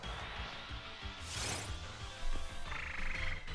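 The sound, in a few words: frog Pokémon cry in Pokémon Sword and Shield video game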